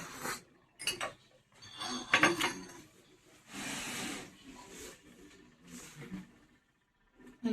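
A spoon stirs a cup of Munnar tea, giving faint, intermittent clinks and scraping rubs in short bursts separated by quiet gaps, close by.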